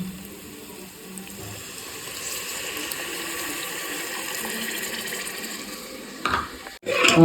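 Steady trickle of tamarind water pouring into a pan for fish curry, a continuous watery wash with faint clatter toward the end.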